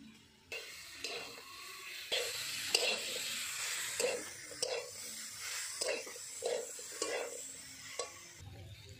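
Dry chili powder stirred into chalta (elephant apple) pickle in a frying pan, with repeated scraping strokes of a spoon against the pan over a soft sizzle, continuing steadily for several seconds.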